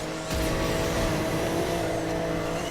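Porsche GT3 RS with a 4-liter flat-six engine in the racing game Need for Speed Heat, roaring loud and steady at high revs with a sharp rise early on, tyre noise layered in, no talking.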